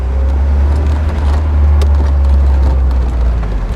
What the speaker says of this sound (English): It's been sitting idling for just a little while.